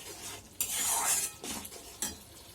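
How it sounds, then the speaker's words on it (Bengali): Chili, coriander, turmeric and cumin powders with salt and a little sugar are stirred in a hot pan for a Bengali fish curry; a spoon scrapes and clatters against the metal in short bursts over a faint sizzle. "এখন এগুলো সব একসাথে দিয়ে দেবো, দিয়ে একটু কষাতে থাকবো।"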